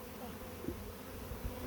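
Wild honey bees buzz in a low, steady drone while being moved into a beehive, a soft continuous hum with a couple of brief louder passes close by.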